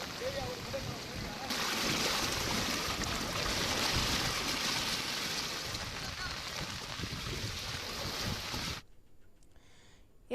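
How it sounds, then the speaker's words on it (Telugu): Floodwater rushing strongly across the main road from Nalgonda to Devarakonda after heavy rains, a steady loud broadband roar that continues for most of the stretch and then cuts off abruptly near the end. "నల్గొండ నుంచి దేవరకొండ ప్రధాన రహదారిపై వరద నీరు ఉధృతంగా ప్రవహిస్తోంది"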